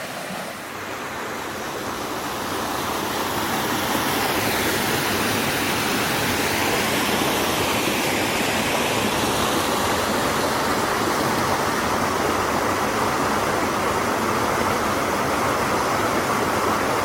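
Creek water rushing steadily through a pretty, fairly deep stretch of a garden creek, a loud continuous broadband flow that swells slightly in the first few seconds and then holds constant, with no talking.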